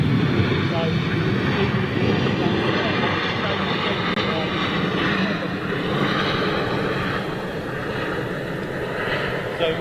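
A Ryanair jet roars past nearby, a broad, sustained engine rumble that holds loud throughout with slight shifts in pitch, while people talk underneath.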